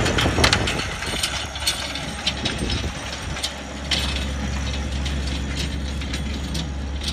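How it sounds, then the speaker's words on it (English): A Mahindra 22 horsepower tractor with 16 PTO horsepower runs a 4-foot mower, giving a steady low engine drone with mechanical rattling and clicking layered on top, continuous and fairly close throughout. "I'm videoing a Mahindra with 22 horsepower, 16 PTO power with a 4-foot mower right now."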